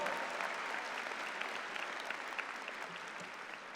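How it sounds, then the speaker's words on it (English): A crowd at a graduate commencement ceremony claps steadily, dense even applause that holds for a few seconds and fades slightly toward the end. "Bring the applause back."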